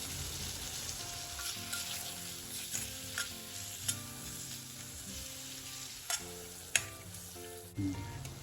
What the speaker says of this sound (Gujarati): હવે લગભગ આપણે આ બધી વસ્તુને 2 થી 3 મિનિટ માટે એકદમ સરસ રીતે સાંતળી લઈશું